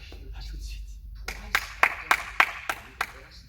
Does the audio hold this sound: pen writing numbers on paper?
no